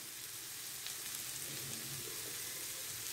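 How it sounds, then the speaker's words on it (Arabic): Onion frying in oil in a pan, a continuous dense hiss and crackle of sizzling that stays steady and close throughout, with no voices. "ونخليها تقلى مع هاد الزيت"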